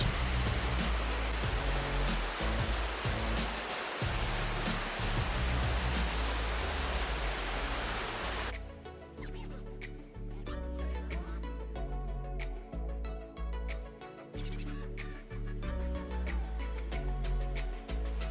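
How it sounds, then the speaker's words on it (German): The Go Lao waterfall near Mai Chau in Vietnam roars as a loud, continuous rush of falling water, then gives way to music with a rhythmic beat for the remainder. "Wir besuchten den Go Lao Wasserfall, wunderschön und erfrischend."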